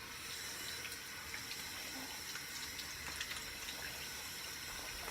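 A faucet runs steadily as a light safety-razor blade is rinsed, a continuous close hiss of water with faint splashes and clinks over the flow, no talking.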